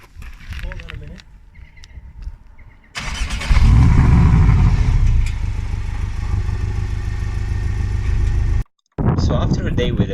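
Porsche 718 Boxster flat engine firing up and accelerating, a loud, sustained mid-pitched roar that swells sharply, then settles into a steady drone before a brief cutout and resumption, with some talk early on.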